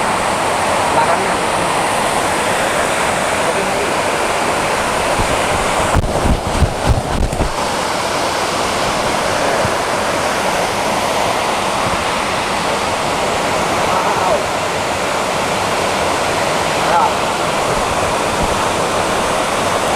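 Steady roar of a waterfall pouring and splashing close by, dense and constant, with a brief burst of louder splashing or wind buffeting midway; voices are faintly present.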